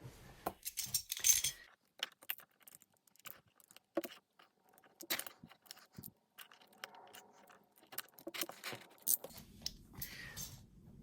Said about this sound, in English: as I try to cut away this with a knife, I've put pressure on this and it's just come away